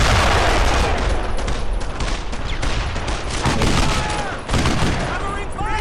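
Sustained dense gunfire from the World War II shooter Brothers in Arms: Earned in Blood, rapid rifle and machine-gun bursts running loud and continuous under shouted in-game soldier voices.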